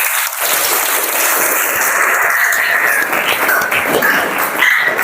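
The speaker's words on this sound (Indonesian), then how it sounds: "Tepuk tangan untuk kita semua" A classroom of students applauds during a problem-based learning lesson, a steady, dense wash of clapping filling the whole stretch, loud and close, with no clear talking over it.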